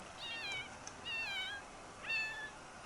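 A cat meows in The Sims 4, three clear, drawn-out meows spaced about a second apart, close and fairly quiet, with no talking over them.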